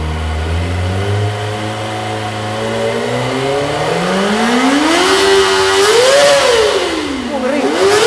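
A 2023 Kawasaki Ninja ZX-25RR motorcycle on its standard exhaust revs up loudly and close, its engine note climbing from a low idle to a high-pitched whine, then dipping and rising again.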